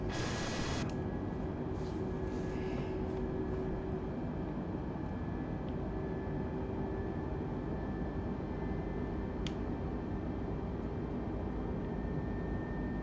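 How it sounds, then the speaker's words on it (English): A steady, low engine drone fills an airplane cabin in Microsoft Flight Simulator during a calm night flight, with a constant faint hum and occasional soft clicks, no voices. "I like the inside sound of the plane, like the engines and stuff."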